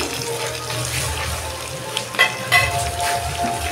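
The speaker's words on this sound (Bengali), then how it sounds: "আলুগুলো মশলার সঙ্গে খুব ভালো করে কষে নেব।" Potatoes fry and sizzle in a pan with spice paste for a red lentil kofta curry, a steady close crackle with a few sharper stirring clinks partway through.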